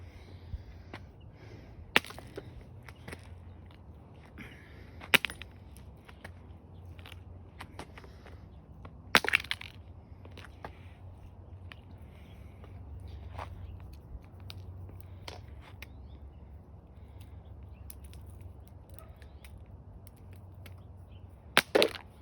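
A Wowtac A7 flashlight, iced over, is struck against something to knock the ice off, giving sharp isolated cracks and knocks spread irregularly over a low steady background hum, loudest near the start, middle and end.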